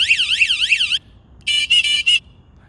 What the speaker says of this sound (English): Clown horn, really annoying whistle, so pretty loud I'd say.